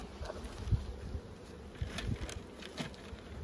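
Honeybees buzz steadily at a hive, a close, dense hum with occasional soft rustles and bumps, no talking.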